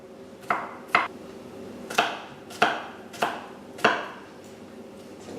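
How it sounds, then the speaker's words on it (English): A knife chopping garlic finely on a board, six sharp, close knocks at an uneven pace, each ringing briefly before the next, with no talking. "I'm going to chop the garlic really fine"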